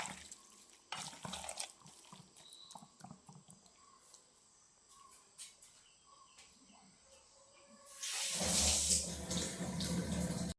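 A kitchen tap runs into a sink near the end, a sudden steady gush of water after quiet cooking sounds, while beef fry is being prepared at home, with faint insect chirps in the background.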